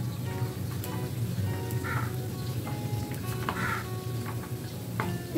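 Hot oil sizzles steadily as chicken tandoori bread pockets deep fry in a home kitchen, a constant close crackle with a few soft bubbling bursts and light utensil touches.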